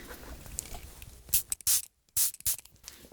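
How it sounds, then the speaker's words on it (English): Several short hissing bursts from a spray bottle, close by, with brief pauses between them. "I'm going to spray them just lightly"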